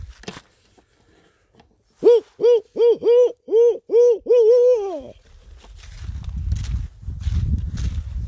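A person imitates a great horned owl outdoors at night with a series of about seven deep, clear hoots in a steady rhythm, followed by quiet rustling and footsteps.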